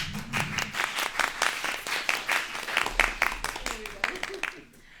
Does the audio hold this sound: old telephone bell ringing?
no